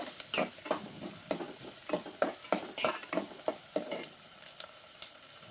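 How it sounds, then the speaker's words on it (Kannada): Uppittu (upma) with fresh green peas fries in a pan, soft sizzling punctuated by a steady rhythm of spoon scrapes as the mixture is stirred, close and without talk. "ಇದೇ ಥರ ಫ್ರೈ ಮಾಡ್ತಾನೇ ಇರಿ."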